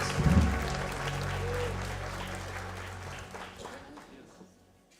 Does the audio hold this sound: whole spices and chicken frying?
no